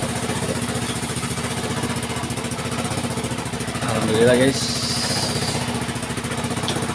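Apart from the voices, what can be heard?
motorcycle engine running without battery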